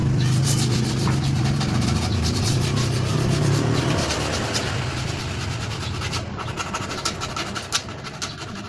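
Sandpaper is rubbed by hand over a cabinet door in a steady run of close, rasping back-and-forth strokes that stay loud and continuous, easing slightly toward the end.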